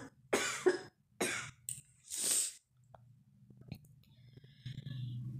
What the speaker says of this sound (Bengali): প্রচণ্ড কাশি হয়ে গেছে আমার